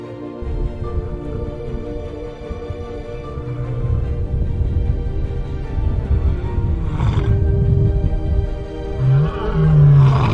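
A lion roars repeatedly with deep, rumbling, sustained calls that build in loudness toward the end, loud and close with no talking.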